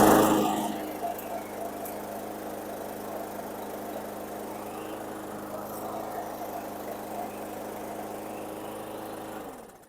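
Craftsman M140 lawn mower with a Honda engine running, a steady mid-pitched motor drone that starts slightly louder, holds even for several seconds, then cuts off at the end.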